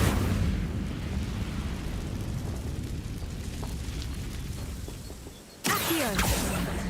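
In Hogwarts Legacy, an Incendio fire spell goes off as a low rumbling whoosh that fades, then a sharp loud burst follows near the end.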